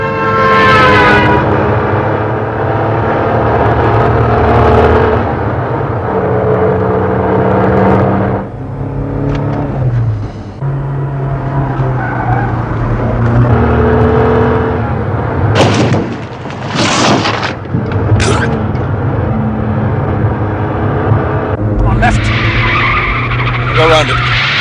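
A car overtakes at speed with tyres skidding and squealing, the engine roaring close and loud for the whole stretch, while people shout urgently over the noise.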